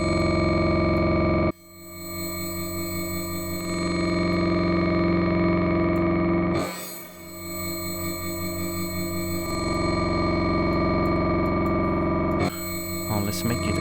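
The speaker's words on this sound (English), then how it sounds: "I'm gonna add some reverb." Glitchy synthesized tones with reverb in Ableton Live, sustained buzzy harmonic chords that cut and restart in several abrupt sections, loud and continuous with no talk.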